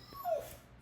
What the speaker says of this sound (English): You guys can hear my dog howling right now.